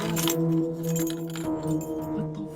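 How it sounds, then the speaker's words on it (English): A bunch of keys jangles and clinks close by in a brief, continuous rattle. "My keys, bro."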